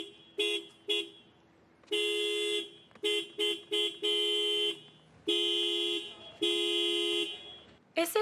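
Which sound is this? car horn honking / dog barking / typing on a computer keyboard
car horn honking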